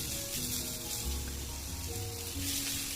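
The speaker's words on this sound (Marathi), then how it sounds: "आता टमाटर टाकलेलं आहे आणि टमाटरही मी भाजून घेते." A steady, soft sizzle of tomatoes roasting in a pan, continuous and fairly quiet with a faint crackle throughout.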